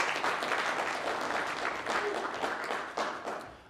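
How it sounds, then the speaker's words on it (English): An audience at a university speech and debate event gives a steady round of applause, dense and moderately loud throughout, with faint crowd murmur underneath. "So let's give her a big round of applause."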